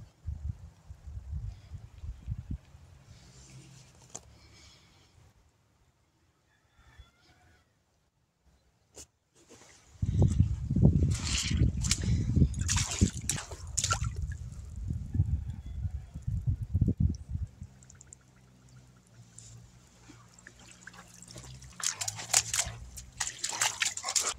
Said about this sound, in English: So I figured today I would record all of the water and show you what kind of water world I live in right now.